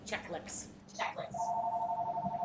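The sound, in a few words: telephone ringing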